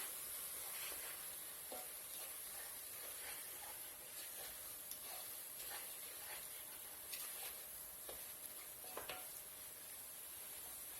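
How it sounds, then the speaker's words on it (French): Chickpea curry with cumin and curry spices is stirred in a pan, a faint steady sizzle under soft intermittent scrapes and taps of the spoon. "Je remue bien le tout, je mélange bien."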